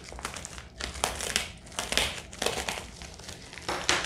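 Crinkling plastic bubble packaging being cut with a craft knife up close, with irregular crackles and rustling bursts as the blade cuts through it.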